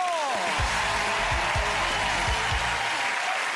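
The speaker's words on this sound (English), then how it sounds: "Ladies and gentlemen, give the Moyles family a massive round of applause!" A game-show studio audience applauds the Moyles family in a full, continuous roar of clapping, with a few low thumps underneath and no break.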